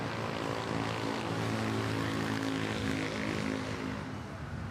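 An airliner near the runway at Manila airport roars loudly and steadily with a broad engine rumble and whine, close and constant throughout without talk.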